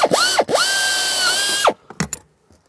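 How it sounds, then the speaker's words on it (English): A power drill spins up, whines steadily for over a second while boring through metal, then winds down, followed by a few short clicks and clatters. "use the bracket as a template and drill our attach holes"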